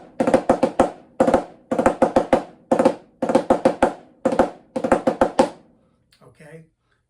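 A snare drum plays the double ratamacue rudiment, two drags leading into a triplet, in clear repeated crisp groups separated by short gaps. A brief faint bit of trailing noise follows at the end.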